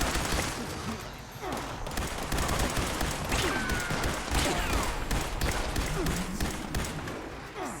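Gunfire in the Fallout 76 video game, a dense continuous fusillade of shots and thuds filling the whole stretch, loud and close with no clear pauses.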